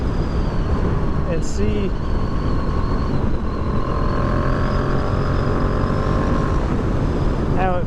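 Yamaha XSR700 motorcycle accelerating uphill: a loud, steady engine drone climbing in pitch as it revs toward high RPM, with a constant rush of wind noise. A voice speaks briefly.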